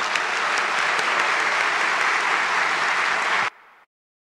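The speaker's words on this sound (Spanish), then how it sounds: "un aplauso para todos ustedes de nuevo" Dense, steady applause from a graduation ceremony crowd at Universidad de la Sabana, honoring the new graduates, loud and continuous before cutting off abruptly near the end.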